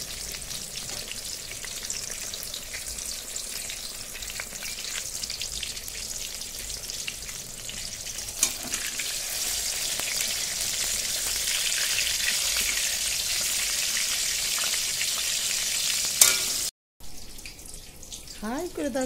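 Slices of eggplant frying in a pan give a loud, continuous sizzle and hiss close by, running steadily until a brief cut near the end.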